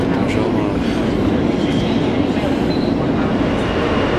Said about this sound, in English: Vizinamies ar metro.